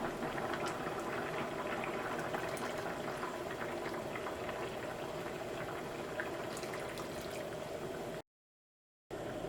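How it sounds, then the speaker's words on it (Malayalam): A pot of shrimp curry with added milk bubbles and simmers steadily, a dense close hiss with small pops throughout, cutting off abruptly near the end. "1 പാല് ചേർത്ത് കഴിഞ്ഞിട്ട് കറി നന്നായിട്ട് തിളച്ചിട്ടുണ്ട്"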